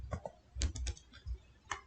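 A few soft keystrokes on a computer keyboard, typed into a Windows 11 search box, come as scattered quick clicks in two short groups; close but quiet, no voices.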